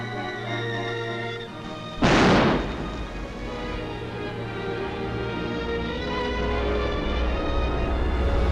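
A single explosion set off for a seismic survey for gas and oil booms sharply and rumbles away, over a steady droning background.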